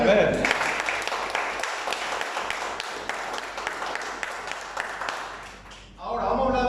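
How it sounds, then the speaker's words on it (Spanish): Congregation applauding at a Spanish-language church service, a dense wash of clapping holding steady for several seconds before cutting off, with a brief voice coming in at the end. "¿Cuánto le dan fuerte aplauso al Señor?"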